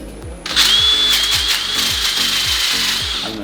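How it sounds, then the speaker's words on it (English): Wooden bowl spinning on a lathe while being sanded with 60 grit paper, a steady loud whirring hiss that starts abruptly and holds, with a low rhythmic thump underneath. "next I'm going to take and sand that"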